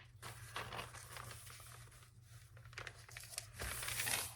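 Paper sewing pattern for a small boxy pouch being folded in half on a work surface, giving close crinkling and rustling paper sounds in bursts with a louder sweep of handling near the end.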